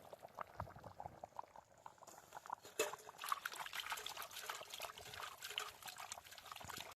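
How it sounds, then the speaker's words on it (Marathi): A pot boils on a wood-fired earthen stove at an outdoor forest picnic, with faint, steady bubbling and gurgling that goes on without a break and no speech. "मस्तपैकी उकळी फुटलेली आहे."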